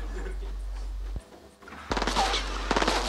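Rapid FAMAS rifle bursts in a shooter video game ring out, a dense automatic rattle that cuts in after a brief lull and stays loud to the end over a constant low hum.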